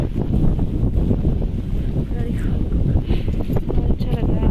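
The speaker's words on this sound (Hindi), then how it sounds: "बहुत अच्छी हवा चल रही है" Strong wind blows outdoors in a village near mango trees, buffeting the microphone as a continuous loud rumbling roar.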